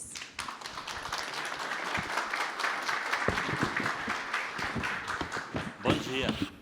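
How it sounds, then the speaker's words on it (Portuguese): An audience at a live lecture event in Itapeva claps to welcome a speaker to the stage, with scattered sharp claps and thumps forming a continuous round of applause that holds steady and swells slightly near the end. "recebam com um grande aplauso Carlos Kebes"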